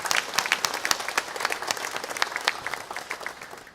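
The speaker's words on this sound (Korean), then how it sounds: "감사와 영광의 박수를 돌리겠습니다" Church congregation applauding during a Sunday service marking the church's 124th anniversary, a fairly soft, even patter of many hands clapping with scattered sharper claps, sustained throughout.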